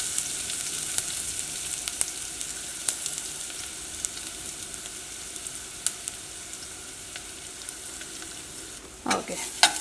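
Chilies and spices fry over low heat in a pan for rasam, a soft continuous sizzle broken by scattered clicks and scrapes of stirring, with a louder stirring rustle near the end.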